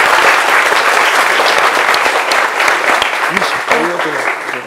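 Audience applause for a documentary director called onto a television set, a dense steady clapping throughout, with a voice briefly speaking near the end.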